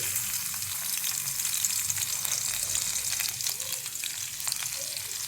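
Garlic frying in hot oil in a kadai, a dense, steady crackling sizzle close by with faint stirring, and no talking.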